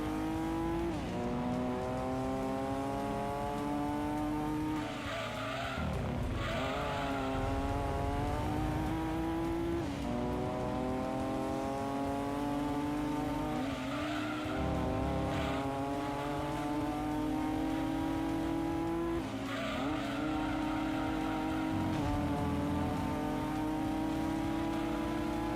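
Race cars in a racing video game, engines revving continuously with rising and falling pitch as gears shift, loud and steady throughout with no talking.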